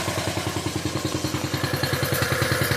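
A Coleman minibike's small engine revs with its rear wheel lifted off the ground, giving a fast, even pulsing chug of rapid thumping firing beats up close, with no voices.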